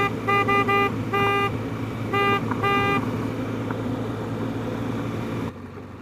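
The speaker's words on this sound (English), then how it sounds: "I wonder what the horn sounds like. Ooh, good sounding horn." The horn of a 2023 BMW GS 1200 motorcycle sounds in several short, close toots, two quick clusters of beeps over steady engine and road noise, with no talking.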